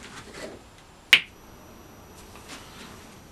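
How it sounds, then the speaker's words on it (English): One sharp, close finger snap cracks out alone in a quiet room during assembly of an Evolution Rage 210 SMS saw, followed by faint handling noises. "I think we'll do the standard finger snap assembly."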